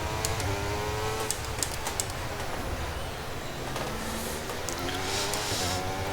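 Formula 1 car engine from the F1 23 video game at the Miami Grand Prix, a steady loud whine with shifting harmonics that holds throughout without talk.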